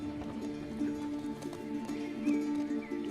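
Horse hooves clip-clop in The Last of Us Part II video game, a soft, steady rhythmic clopping under low game music and ambience.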